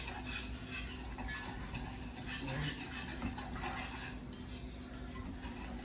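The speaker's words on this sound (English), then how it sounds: "keep stirring your gravy" Sausage gravy being stirred in a hot skillet, a steady scraping and clinking of utensil against pan at close range, continuous and fairly quiet throughout.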